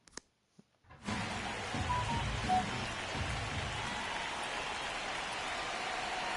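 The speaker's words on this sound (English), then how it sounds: "It feels like we might be headed towards a rain delay if the weather doesn't ease up" Rain falling in a baseball video game, a steady hiss of rainfall that starts abruptly after a brief quiet moment and continues evenly.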